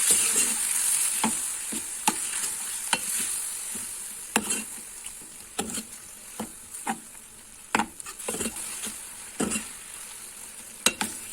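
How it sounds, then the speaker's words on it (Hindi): Mutton being stirred and fried with yogurt in a pan for bhuna dahi gosht, a steady sizzle broken by repeated sharp scrapes and clicks of the spoon against the pan. No one speaks. "अब इसे दही के साथ हमें भूनना है।"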